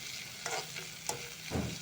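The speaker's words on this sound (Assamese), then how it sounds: "পিঁয়াজখিনি অকণমান ভাজি ল'ম আৰু কাটি থোৱা লাই শাকখিনি মই অলপমান ভাজি ল'ম" A quiet sizzle of onions and chopped mustard greens frying in oil, with a few soft stirring scrapes and taps close by.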